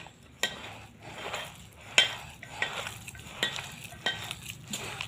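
A spoon stirs sabudana and potato pakora batter with fasting flour in a bowl, making a soft, repeated scraping and sloshing rhythm with occasional light clinks against the bowl, close and steady, without speech.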